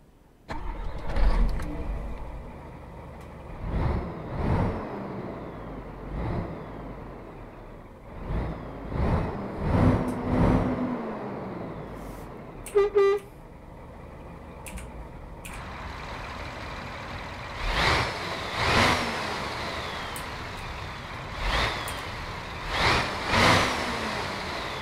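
A Scania RJL truck engine in a video game cranks and fires, then settles into a deep idle with repeated revs and swells, broken by a brief hissing air release, with no talk heard.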